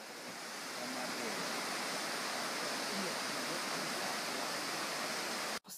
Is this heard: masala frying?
no